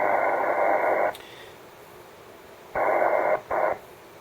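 Icom IC-7100 radio receiver tuned slightly off frequency, giving bursts of loud hissing static that cut out to a quieter background hiss, with one long burst, a pause, then two shorter bursts near the end.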